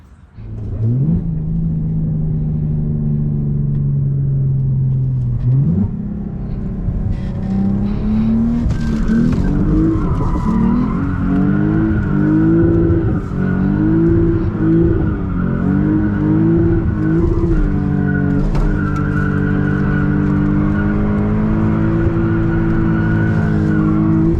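Lexus IS250 with a six-speed manual and a swapped FR-S/BRZ differential, engine loud and close as it idles, then revs and pulls through rising gears with shifts, continuous with no talking.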